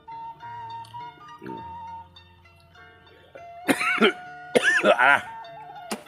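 Several harsh coughs close by during eel fishing, coming in two loud bursts near the end after a quieter stretch with faint tones and background noise.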